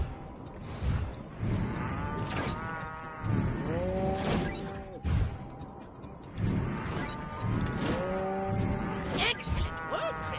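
A cow lows in the Destroy All Humans 2 video game, with repeated drawn-out calls alongside game effects and a few other animal-like bleats.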